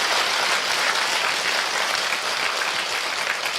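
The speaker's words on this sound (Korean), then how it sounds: "다시 손뼉을 크게 한번 쳐보십시오." Audience at a Korean book-launch event clapping hands, a continuous dense burst of applause sustained at even loudness throughout, with no voices over it.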